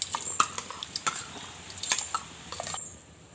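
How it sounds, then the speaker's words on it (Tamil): Washed mung beans are tipped into a pot of boiling water for Sri Lankan aadi koozh, with a run of close metallic clinks and rattles from utensils that thins out toward the end. "இப்போ தண்ணி வந்து கொதிச்சிட்டுது. இதுக்குள்ளே நான் வந்து பயறு போட போகிறேன்"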